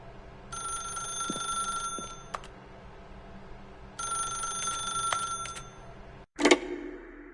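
Telephone in The Stanley Parable ringing in two long bursts of harsh, bell-like trill with a pause between, followed by a sharp click as the receiver is lifted.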